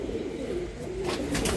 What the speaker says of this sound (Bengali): এই যে দেখছেন ভাই ঠোঁট মিলিটারি কবুতর